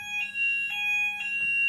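A piercing electronic alarm beeps in steady repeated pulses, loud and close, with a constant high tone running underneath.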